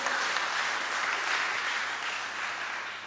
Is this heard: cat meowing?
no